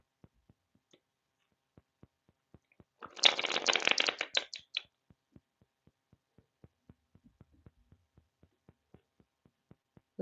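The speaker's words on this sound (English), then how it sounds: "I'm gonna shuffle like one more time" A deck of tarot cards is shuffled once in a single close, soft riffle lasting about a second and a half, alone against near silence, with scattered faint ticks before and after.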